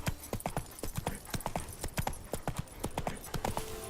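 Roach the horse's hooves clip-clop at a steady walking rhythm in The Witcher 3, each strike close and clear over a continuous game ambience with no speech.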